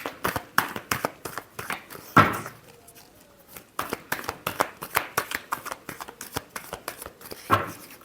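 A deck of tarot cards is shuffled by hand in quick, crisp riffling bursts with a few louder slaps, close and clear, with no voices.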